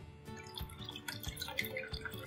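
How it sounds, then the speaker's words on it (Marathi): Water drips and trickles in short, irregular bursts as it drains from soaked moong dal, close by, with small splashes scattered through the moment and no voices. "या डाळीतलं हे पाणी राहते हे पूर्णपणे नितरून घ्या।"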